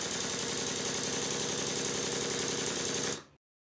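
A small model Stuart triple expansion steam engine, run on air supply, runs with a rapid, steady chuffing beat and hiss, then abruptly stops.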